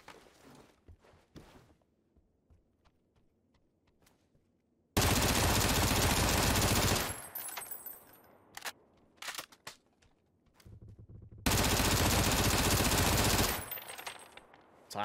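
Two long, loud bursts of automatic gunfire in PUBG on console, each lasting about two seconds, with quieter scattered shots and footsteps between them.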